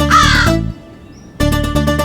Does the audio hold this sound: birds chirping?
yes